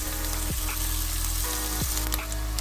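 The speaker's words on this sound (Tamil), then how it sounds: "நல்லா வதக்கி வச்சுக்கலாம். வெங்காயம் கொஞ்சம் வதங்கட்டும்." Steady crackling sizzle of onions frying in a pan for mutton biryani, close and continuous, with a couple of faint clinks partway through.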